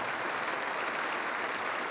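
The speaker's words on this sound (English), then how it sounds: "All right, you can clap there." Audience applause during a mayor's State of the City speech: a steady, dense wash of many hands clapping continuously, evenly sustained throughout with no voices.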